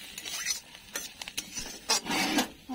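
Flat beans and potatoes are stirred in a pan, a spoon scraping and rasping in short, irregular strokes over a low sizzle, close and moderately loud, with no one talking.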